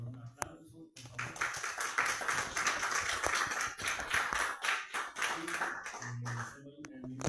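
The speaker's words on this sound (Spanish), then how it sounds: "Lo recibimos con un aplauso, por favor." An audience at a lecture session gives a sustained round of clapping to welcome the speaker, with brief talk before it begins and as it fades out.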